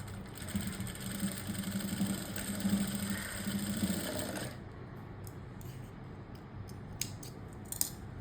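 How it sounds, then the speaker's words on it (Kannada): A sewing machine runs steadily stitching fabric for a tassel, a close mechanical whir for about four seconds before stopping, followed by quieter handling clicks and taps. "ಅಂದರೆ 3/4 ನೋಡಿಕೊಂಡು ನಾವು ಈ ರೀತಿ ಸ್ಟಿಚ್ ಮಾಡ್ಕೋಬೇಕು"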